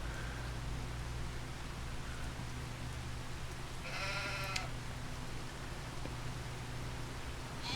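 One sheep bleats once at a distance, a short wavering call rising faintly over a steady hiss of background noise in an open meadow, otherwise quiet and without voices.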